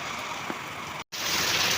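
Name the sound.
heavy rain during Cyclone Fengal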